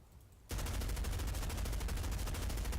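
Automatic weapon fire in the Medal of Honor Beta video game, shown while testing accuracy and recoil: after a brief quiet moment, a loud, rapid, sustained burst of evenly spaced shots fills the rest of the stretch.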